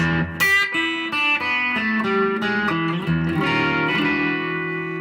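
An electric guitar plays a short blues ending lick, plucked notes and bends ringing out cleanly into a sustained closing chord, with no voices.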